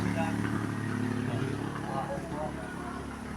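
A motorcycle engine runs steadily at a roadside stopover, a continuous low rumble with someone talking over it.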